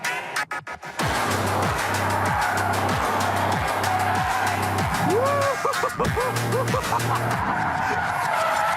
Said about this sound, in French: on va voir si on peut drifter avec la voiture